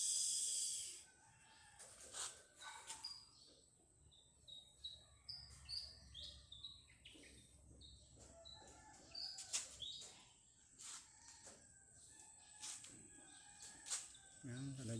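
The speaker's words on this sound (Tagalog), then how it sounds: "Marami po mga ibon dito. Maririnig nyo." Birds chirp and tweet in short, bright calls from several directions, some near and some distant, in a garden with large trees, against a quiet outdoor background.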